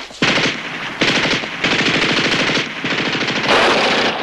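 Loud, close machine gun fire in repeated bursts of about a second each, separated by brief pauses, with no voices.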